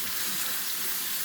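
Onion hits a hot frying pan for pansit, giving a steady broad hiss of sizzling oil that holds evenly throughout at moderate loudness.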